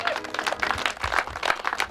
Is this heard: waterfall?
no